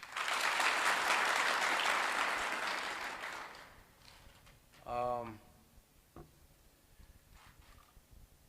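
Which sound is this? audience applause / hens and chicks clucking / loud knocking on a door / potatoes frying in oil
audience applause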